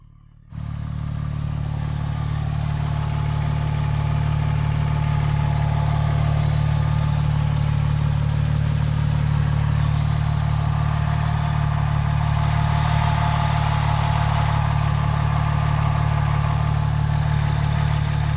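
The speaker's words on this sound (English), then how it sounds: "You can probably hear the engine idling in the background." A 2001 Porsche 911 Turbo Coupe engine idles steadily with a deep, even rumble and a light mechanical clatter, starting abruptly and holding constant throughout.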